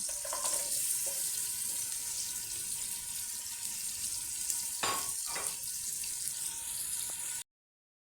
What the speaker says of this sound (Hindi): इस तरह से ऑयल डाल के प्याज ब्राउन करूँगी